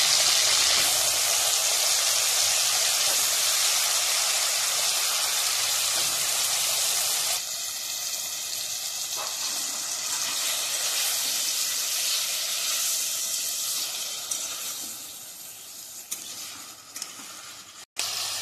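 Potatoes sizzle in hot oil with dried red chillies and panch phoron for a Bengali aloo posto, a loud, steady frying hiss that eases slightly partway through and carries on unbroken with no talking.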